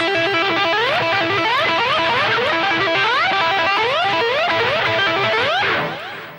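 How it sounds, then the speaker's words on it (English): Distorted electric guitar playing a rapid trill that repeatedly slides up into higher notes, a looping lick played alone and loud. "a lick now which uses what we call a trill"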